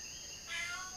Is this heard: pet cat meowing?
yes